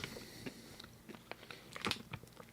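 Crunchy chewing of a caramel-coated sweet with a sweet crunchy center, close and fairly quiet, a run of irregular bites and crackling crunches with no talking.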